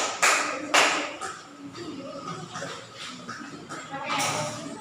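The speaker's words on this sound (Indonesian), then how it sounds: "Tepuk tangan buat kelompok Indonesia." A fifth-grade class claps for the Indonesia group, with bursts of applause near the start and again at the end, mixed with classroom chatter and voices.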